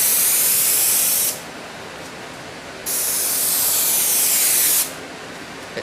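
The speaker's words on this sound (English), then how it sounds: "I'm just going to spray a line of it here and just show you how it sprays out" Spray adhesive glue hisses from an aerosol can while a car parcel shelf enclosure is built, two loud, close bursts of about a second and a half each, divided by a quieter pause.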